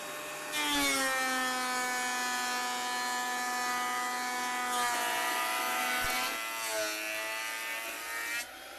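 A wood planer resurfaces a rough, weathered pallet board with a loud, steady high-pitched whine that holds for about eight seconds, dipping briefly as the board feeds through, then winds down at the end.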